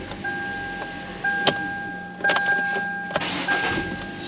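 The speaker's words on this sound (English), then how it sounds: "Beginning engine cranking sequence now." A 2012 Hyundai Elantra with the 1.8 engine cranks and starts, with a steady electrical whine and several sharp clicks and bursts as it catches, close and moderately loud with no voices.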